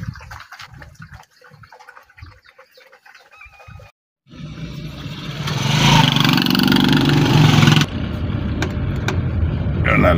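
A motorcycle loaded with nine sacks of charcoal approaches on a road toward Kilibasi town, its engine swelling loud and close for several seconds before dropping away, with rural outdoor noise and chickens faintly around it.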